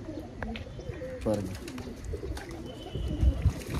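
Black pigeons with black eyes coo softly in a fancier's loft, low murmuring calls mixed with faint wing and perch noises, and someone speaks briefly over them.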